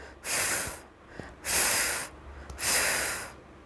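A voice imitates the hiss of a deflating fish three times: long breathy hisses separated by short pauses, close and fairly loud.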